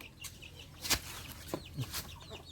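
Chickens on a rural Thai home plot where ducks and chickens are raised give faint scattered clucks and a brief flutter of wings over a quiet outdoor background.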